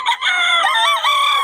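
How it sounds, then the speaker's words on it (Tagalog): A rooster crows loud and close at an open-air flea market, one sustained warbling call. "Ganda mga manok ng Boss Tony mga idol"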